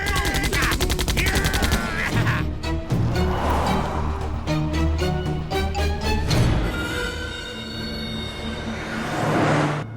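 Gunshots ring out in a Hindi film scene, a loud burst of rapid rhythmic firing like a machine gun volley, mixed with music and dramatic sound effects.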